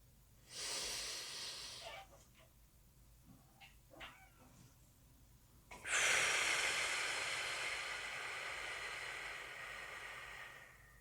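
Slow, deep breathing during a sophrology exercise, heard up close: a long inhale, then after a pause a longer, softer exhale that fades away slowly, with no talk.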